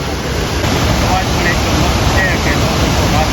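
Steady roar of rushing water at Jamjir waterfall in Gujarat, a broad continuous wash of noise close by with some wind buffeting the microphone and no clear speech.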